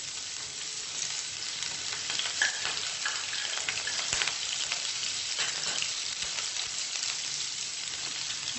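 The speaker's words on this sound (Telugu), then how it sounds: "కొంచెం వేడైన తర్వాత అల్లం ముక్కలు, మనం కట్ చేసి పెట్టుకున్న పచ్చిమిర్చి," Ginger pieces and chopped green chillies fry in a couple of spoons of hot oil in a pan, a continuous crackling sizzle with small pops and occasional stirring, close and steady, no voices.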